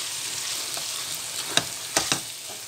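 Cauliflower and broccoli frying in a pan, a soft continuous sizzle with a few brief sharper crackles and pops, fairly quiet and near.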